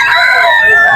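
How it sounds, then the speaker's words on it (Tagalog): A rooster crows loudly and close, one brief drawn-out call from among a batch of brought-in chickens at a poultry gathering in Bocaue, Bulacan. "Check natin yung mga manok niyang dala."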